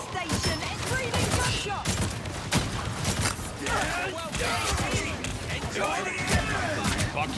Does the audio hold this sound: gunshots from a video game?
yes